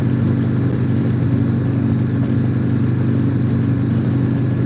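A Harley Tri-Glide three-wheel motorcycle engine runs steadily at fairly high RPM, a continuous close, loud mechanical drone with no gaps.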